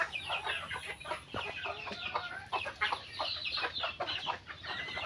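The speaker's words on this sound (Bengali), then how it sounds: "মুরগিটা ঠোকা দিয়ে একদম শেষ করে দিছে" A hen clucking repeatedly up close, short irregular calls mixed with soft pecking taps, no voices.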